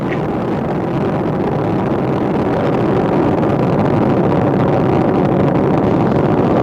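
Space Shuttle Discovery's three liquid-fuel main engines roar during launch toward orbit, a loud, steady, broadband rumble sustained throughout with no pauses.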